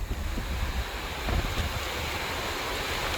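Ocean waves surging over a sandbar during Tropical Storm Paeng (Nalgae) near Iloilo at low tide, a close, loud rushing roar with heavy wind buffeting the microphone and a brief swell midway.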